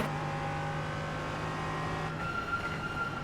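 An LMP3 race car in a racing video game at Watkins Glen drones with a steady high engine tone, shifting pitch as it passes other cars.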